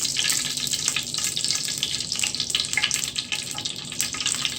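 Cooking oil going into a pan for chicken breast, a steady close hissing, sizzling wash that runs continuously without pauses and at moderate loudness.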